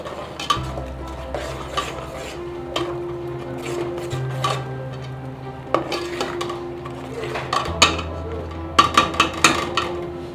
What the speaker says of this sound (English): all you need to do is stir it together